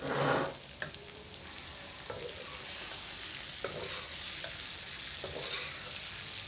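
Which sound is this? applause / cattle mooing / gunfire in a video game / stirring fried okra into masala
stirring fried okra into masala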